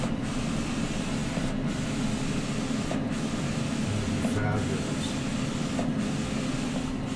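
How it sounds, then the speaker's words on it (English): A photo printer feeds out a large glossy owl print, giving a steady, even whirring hum that runs throughout under people talking. "the owl's just starting to appear out of the printer now"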